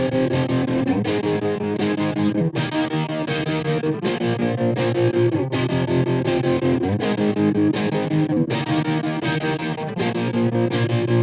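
A Boss BF-3 flanger pedal placed after distortion sweeps a loud, distorted electric guitar through chugging chord riffs, with a whooshing comb-filter swirl across repeated strummed bars.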